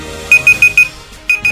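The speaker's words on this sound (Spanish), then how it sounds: "Me está sonando la alarma." An alarm beeps in a rapid series of short, bright tones, four in quick succession, a pause, then two more, loud and close over a low background hum.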